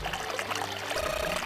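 A faucet pours water steadily in the video game Zero Escape: 999, a continuous splashing stream running at moderate level on its own throughout.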